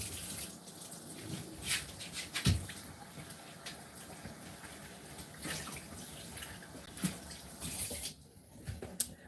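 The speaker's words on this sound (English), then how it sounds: "I'm gonna rinse this off." A kitchen tap runs while something is rinsed off after cooking chili, producing a low, fairly quiet water wash with splashes and clunks scattered through it; the flow cuts briefly near the end.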